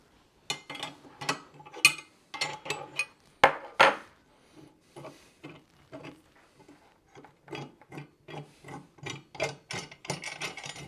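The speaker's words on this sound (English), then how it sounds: "unscrew the nuts so the upper plate just came down on the load cell" A ratchet wrench unscrews the nuts on a load cell mounting kit, rapid metallic clicking in repeated close bursts with brief pauses between strokes, moderately loud with no talking.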